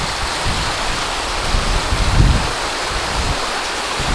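Steady broadband rush of flowing water, like a river streaming over stones, continuous and fairly close with a brief swell midway.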